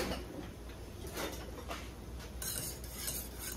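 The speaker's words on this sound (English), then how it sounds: "I'm just gonna whisk it all together" A wire whisk stirs grits in a pot, producing faint, quiet scraping and light metallic clinks in an uneven rhythm, close by with no talking.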